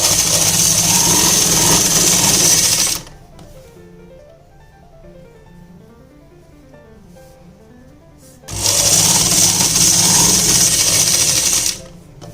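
A sewing machine stitching kurti fabric, running loud and close in two steady whirring bursts with a quieter pause between them, with no one speaking.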